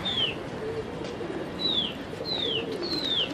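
Birds call several times in quick succession, with thin, falling whistles near pigeons just released from their loft, moderately loud over a steady murmur.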